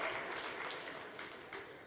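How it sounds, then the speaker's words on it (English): Faint, distant clapping from the audience at a hackathon opening ceremony, a diffuse, steady patter that fades slightly across the short span. "Yeah, round of applause."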